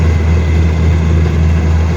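A tractor engine runs steadily in a muddy clay rice field, a close, continuous low diesel drone with no break.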